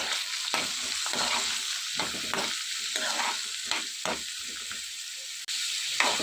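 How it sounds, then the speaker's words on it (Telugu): Onion, chana dal, cumin, dried chillies, garlic and curry leaves fry in oil in a pan, giving a steady close sizzle with repeated stirring scrapes. "ప్యాన్లో ఆయిల్ పోసుకుని ఆనియన్ అలాగే పచ్చెనపప్పు జీలకర్ర ఎండుమిర్చి ఎల్లుల్లిపాయలు కరివేపాకు వేసుకుని ఇవన్నీ బాగా వేయించుకోవాలి"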